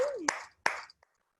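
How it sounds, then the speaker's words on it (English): Applause from participants on an online video call comes through as two sharp, separate claps over a thin, compressed line, with a brief faint tap trailing off afterward. "Can I just see them clapping?"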